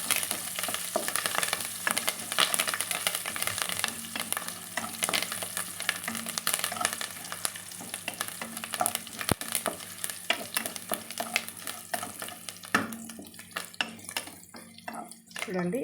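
Garlic and curry leaves fry in hot oil for tomato rasam, giving a steady close hiss and crackle with occasional stirring, while a voice talks intermittently over the sizzle.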